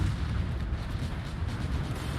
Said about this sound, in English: There comes some of the big battleship shots